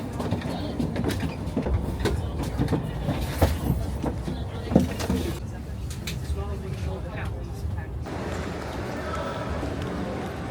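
Rumbling and clattering of a train at a station with irregular metallic knocks and bumps, plus indistinct background noise throughout.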